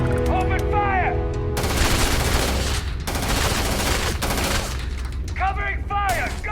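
Rapid automatic gunfire crackles in the video game Starfield, a dense sustained burst that is loud and close. Voices shout briefly before and after the shooting.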